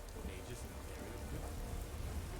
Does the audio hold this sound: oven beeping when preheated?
no